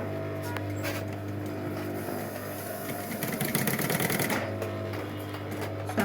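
Sewing machine stitching around a handmade tote bag, a steady mechanical whirr with a fast rhythmic stitch pattern running continuously and fairly close throughout.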